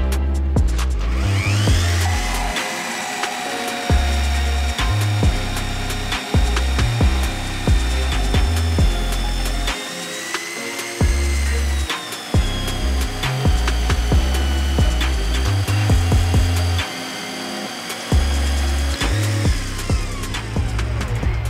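Power saw cutting wood for building storage boxes, a loud sustained whining buzz with repeated cuts, brief pauses and scattered knocks and clatter between passes, with no talk.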